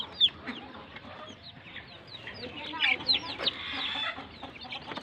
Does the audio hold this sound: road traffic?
no